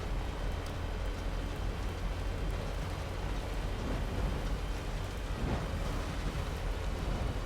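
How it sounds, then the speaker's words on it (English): Heavy rain pours steadily while driving in the video game Death Stranding, a dense, constant hiss with a low rumble beneath that holds at an even, loud level throughout. "for whatever reason it just rains really heavily right here"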